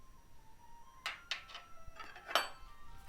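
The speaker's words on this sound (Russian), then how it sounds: "Все это слегка размешиваю." A spoon stirs mushroom soup ingredients in a pot, an onion in quarters with bay leaf and pepper in broth, giving a few soft scrapes and clinks, close and quiet, with no talking.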